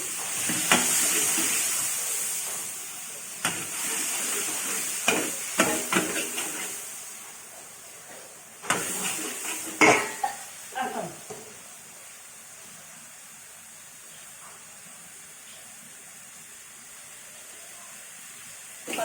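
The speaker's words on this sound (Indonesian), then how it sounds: "Kita tumis bahan yang di blender tadi." Soft sizzling hiss of a blended spice paste sautéing in a pan with a few clatters and stirring knocks, fading to quiet steady frying toward the end.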